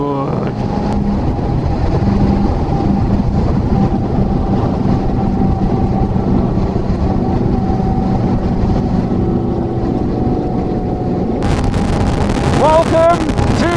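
Strong wind buffeting the microphone on a road trip from Melbourne to Sydney, a loud continuous low roar and rumble that stays steady throughout, with a brief higher rustle near the end.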